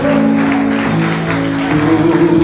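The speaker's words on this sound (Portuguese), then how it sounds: "Você pode aplaudir o Senhor bem forte?" A church congregation claps loudly in steady, dense applause, with held notes of music or singing sounding beneath and shifting pitch partway through.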